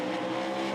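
A 360 sprint race car roars steadily around a racetrack, one of them trailing smoke, giving a loud, constant engine drone with no break.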